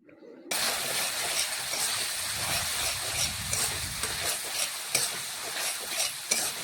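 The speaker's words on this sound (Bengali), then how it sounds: "তো দেখুন এইভাবে নাড়াচাড়া করে বেশ কিছুক্ষণ মশলা আমি কষিয়ে নিচ্ছি" After a brief quiet start, spice masala with onion sizzles and hisses loudly in a pan as it is stirred, with scraping spoon strokes over a steady frying sizzle.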